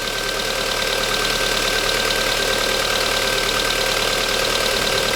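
Volkswagen Golf IV 1.6 AZD engine running at idle with oil in the exhaust manifold, a steady close mechanical clatter and hum with a continuous high whine over it.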